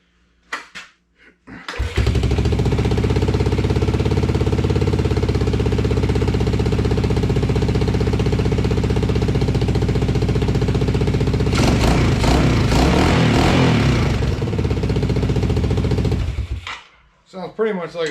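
A Yamaha YTM225DX ATV engine with a slightly leaking exhaust starts and idles loudly and steadily, a close, throbbing single-cylinder chug that carries on alone before cutting off.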